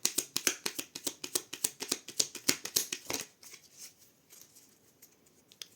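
Tarot cards are shuffled and cut: a rapid rhythmic run of crisp, close riffles for about three seconds, then quieter soft rustling as the deck settles.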